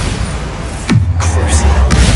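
A Bombarda explosion spell in Hogwarts Legacy lands as a sharp, booming blast that falls into a deep, lingering low rumble, followed by lighter crackling impacts over steady background noise.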